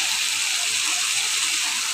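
Water poured into a pan of fish curry with potatoes, a continuous bright splashing gush that stays loud and even for about two seconds with no voice over it.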